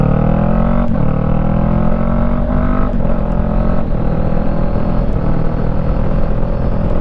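A 2017 Honda CB500F motorcycle engine rumbles steadily and close through a continuous ride, with rising pitch as it accelerates and a few brief clicks on top, no voices.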